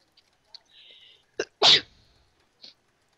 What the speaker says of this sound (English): I already yelled at him, so I figured sneezing would work just as well.